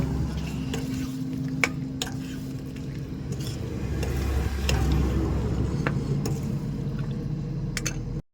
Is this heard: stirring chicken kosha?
yes